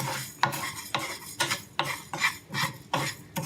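Quinoa stirred through a hot pan as it toasts and pops, about seven scraping strokes in a steady rhythm over a light sizzle, close and with no voices.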